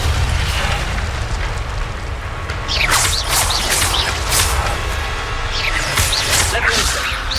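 A fire spell cast in Hogwarts Legacy erupts in a few loud whooshing blasts over constant game ambience and score, with bursts of flaring noise repeating through the middle and end.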